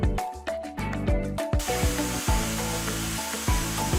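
A Makemeebold Swift high-speed hair dryer blows a steady, loud rush of air that starts partway through, beneath an upbeat music track with a regular beat.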